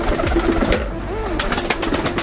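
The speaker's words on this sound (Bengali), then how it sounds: "আমার মেইনলি কবুতর ঘরে এখন ককা কবুতর এবং ইন্ডিয়ান লোটন কবুতর রয়েছে।" Kaka and Indian Lotan pigeons coo in a home loft at night, with several soft, rolling, throaty coos overlapping at close range against a low, steady background.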